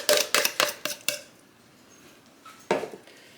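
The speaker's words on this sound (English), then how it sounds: "I'm just using my fork" A fork beats egg and milk batter in a bowl, giving a quick run of five sharp metallic clinks and taps, then a pause and one more burst of clatter, close and fairly loud.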